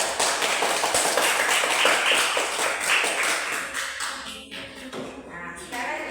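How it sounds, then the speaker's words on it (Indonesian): Classroom applause for a group of students: a burst of quick, moderately loud hand claps from a small group indoors that thins out and stops partway through. "Tepuk tangan dulu untuk kelompok 1"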